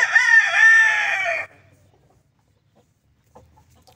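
An Aseel cross rooster, mixed with Amroha and Lasani bloodlines, gives one loud close crow lasting about a second and a half, followed by near silence.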